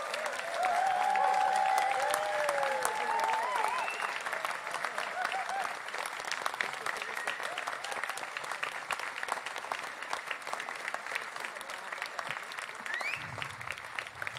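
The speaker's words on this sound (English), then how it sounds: "we should give him a big round of applause because he deserves it" An audience at a choir concert and wildlife film premiere breaks into sustained applause that runs throughout, strong at first and then easing slightly, with a faint voice briefly heard over it.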